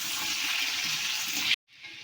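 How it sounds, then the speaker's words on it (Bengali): Taro pieces frying in a pan, a steady broadband hiss of hot oil that runs continuously before cutting out abruptly near the end, then resuming more faintly. "এবার কচুগুলো একটু ভেজে নেব।"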